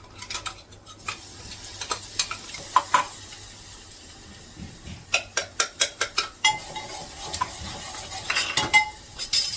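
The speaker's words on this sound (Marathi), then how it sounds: "एक मिनिट भर तेलात परतून घेते मी आणि मिरची मी परतून घेतली वाटलेली" Ground green chili paste, garlic and cumin sautéed in hot oil in a pan, a steady soft sizzle broken by sharp metallic clicks and scrapes of a stirring spoon, clustered in bursts, close and with no voices.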